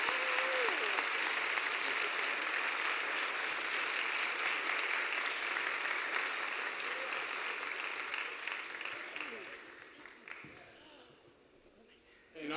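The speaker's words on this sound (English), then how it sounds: "Let's please give her another round of applause." Audience applause at a college award presentation during a Crown Forum, a steady dense clapping that carries for about ten seconds before tapering off, with a voice faintly audible beneath it.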